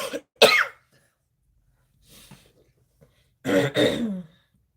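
A woman coughs and clears her throat at close range: a sharp burst, a faint throat noise, then a heavier double cough with rasping, set apart by silence.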